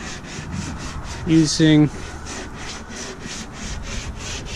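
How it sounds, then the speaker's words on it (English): A sander working sandable fairing compound over fiberglass on a Cape Dory 36 sailboat refit, a steady rhythmic rubbing scrape close by, with a short spoken word in the middle. "We've applied a sandable fairing compound on top of the fiberglass. And now we are"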